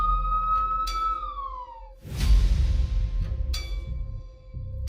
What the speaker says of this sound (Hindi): अभिरूप ने तुरंत एम्बुलेंस बुलाकर गार्डनर को हॉस्पिटल में एडमिट करा दिया।